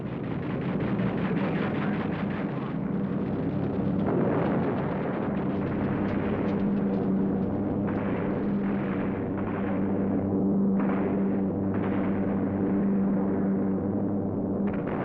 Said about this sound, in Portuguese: Tiros antiaéreos que tentam causar buracos nos aviões